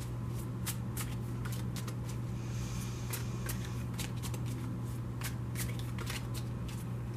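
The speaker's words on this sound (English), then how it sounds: "I have pre-shuffled this deck, so I'm only going to shuffle it for a moment." A tarot card deck being shuffled briefly, with rapid crisp riffling and snapping bursts repeating close up over a steady low hum, no voices.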